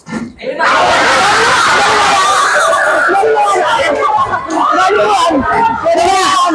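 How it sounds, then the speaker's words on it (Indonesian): A classroom of pupils erupts in loud shouting, squeals and laughter after a round of a finger-counting hand game, a sudden burst of many voices that stays loud and dense throughout. "Yang menang boleh teriak."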